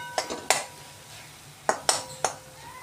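Metal spoon scraping and clinking against a pan while cardamom powder is stirred into a sweet filling, five or six sharp clinks in uneven bursts, close and clear, with no talk.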